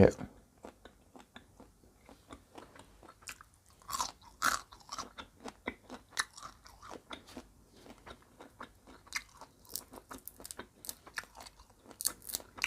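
Crunchy fried cockroaches, roasted with salt and seasoning and eaten for their egg-filled bodies, give quiet, close crackling bites and chewing crunches in irregular bursts throughout.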